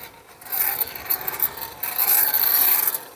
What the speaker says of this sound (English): since I've got the turnbuckle on there, I can go ahead and tighten it up some more